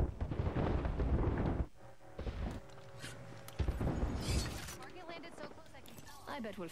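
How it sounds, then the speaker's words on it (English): Airstrike blasts in the video game Apex Legends boom and crackle loudly in bursts, mixed with debris and gunfire-like impacts, while a player talks over the action. "Get down. Airstrike."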